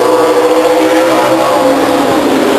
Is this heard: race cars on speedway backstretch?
yes